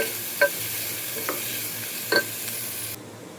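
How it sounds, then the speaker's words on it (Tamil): Onions sauté in hot oil with mustard seeds, fennel and curry leaves for a fish curry, a soft continuous sizzle with a few faint stirring clinks. "போட்டிக்கு எண்ணெய் போட்டு கடுகு, சோம்பு, கருவேப்பிலை போட்டு வெங்காயம் போட்டு நல்லா வதக்கி எடுத்துக்கிறேன்"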